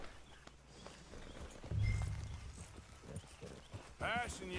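Horse hooves clip-clopping in the video game Red Dead Redemption 2, a steady trotting rhythm under ongoing talk, with a louder thump partway through and a brief horse-like whinny near the end.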